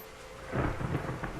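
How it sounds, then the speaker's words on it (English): Deep thunder rumbles in a brief swell over steady rain battering a cargo ship's deck in a storm scene from the Shadowrun: Hong Kong video game, low, muffled and moderately faint. "The cargo ship rolls and pitches with the waves that batter her sides, and the rain assails the deck. Deep thunder rolls overhead."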